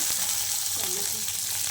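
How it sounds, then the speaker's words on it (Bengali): Carrot and capsicum frying in oil, a short continuous sizzle with a faint voice murmuring underneath. "ভালো করে ভেজে নেবে"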